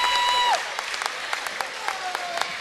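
Scattered applause and a murmuring crowd fill a college gym during an Elmhurst College versus Carthage College men's basketball game. A sneaker squeak comes early, then the clapping continues as uneven, moderate claps over the hum of the gym.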